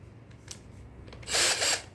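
A 21V cordless impact drill/driver whirs briefly in drill mode after a few soft clicks, a short high-pitched motor run that spins up and stops.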